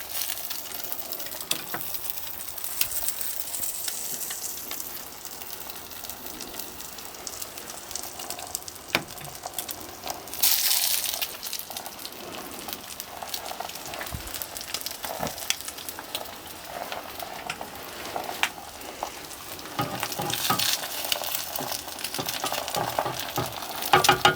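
An egg frying on a metal shovel, a steady close sizzle and crackle of hot fat running throughout with a few sharper spits and pops.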